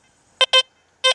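A Deus 2 metal detector swept over a non-ferrous target beside a nail gives two quick pairs of loud, buzzy, harsh tones, each pair close together and separated by a short gap, with no voices.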